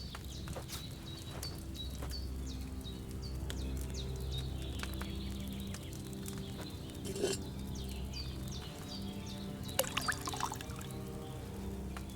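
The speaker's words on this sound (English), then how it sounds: "First, you have to pour the right base into the cauldron." Wine poured from a pitcher into a cauldron in Kingdom Come: Deliverance II makes a low, continuous trickle. It is faint and sits under a busy ambience of birds, clopping hooves and footsteps, with no one talking.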